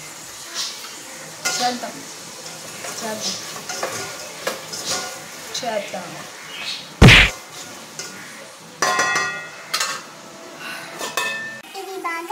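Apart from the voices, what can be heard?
food frying in a pan while cooking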